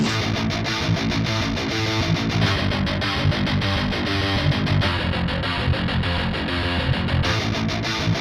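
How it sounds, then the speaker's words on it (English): Dense distorted rock guitar riff from Sample Logic Cinematic Guitars Infinity, loud and saturated with chugging rhythmic chords and a full, gritty mix throughout, with no talking. "making this more interesting is the Cinematic Guitars one, which is the rock guitar,"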